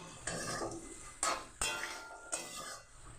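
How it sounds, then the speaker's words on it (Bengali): A spoon scrapes and stirs through okra and potatoes in a pan, with several sharp clinks against the metal over a soft sizzle, no voices. "আলু ঢ্যাঁড়স ভাজা ছিল খালি একটু নেড়ে চেড়ে জল ঢেলে দেব"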